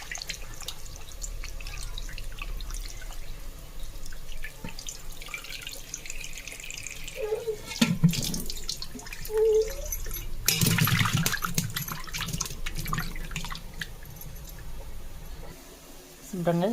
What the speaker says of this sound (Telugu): మళ్ళీ ఒకసారి బయట కడిగింది కాకుండా లోపల కూడా మళ్ళీ కడుగుతున్నాను